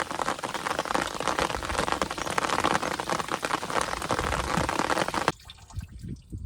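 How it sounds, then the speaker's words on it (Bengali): Steady rain falls outdoors at a fishing spot, a dense, even hiss of drops on surfaces that holds for about five seconds and then cuts off abruptly, leaving faint background sound. "ভালোই বৃষ্টি হচ্ছে"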